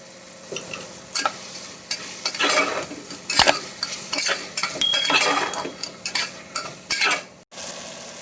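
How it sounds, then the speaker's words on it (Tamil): Onion, tomato and ginger-garlic paste sauté for a chicken gravy, with a low sizzle under repeated spoon scrapes and clinks against the pan in an irregular stirring rhythm, close and moderately loud. "இப்போ வந்து வெங்காயம் தக்காளி இஞ்சி பூண்டு பேஸ்ட் எல்லாமே நல்லா வதங்கிடுச்சு"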